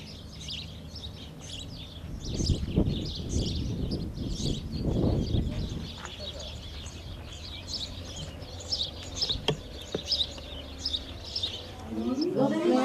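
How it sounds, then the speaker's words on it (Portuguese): Birds call and chirp steadily in the background, with repeated bird-like coos and tweets continuing throughout, while a voice speaks briefly over the lower sounds early on. "Os pássaros."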